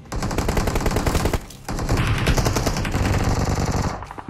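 Sustained automatic gunfire in the PUBG Mobile video game, loud and close, rapid bursts running almost continuously with a short break before resuming.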